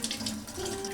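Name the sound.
running tap water over a boiled egg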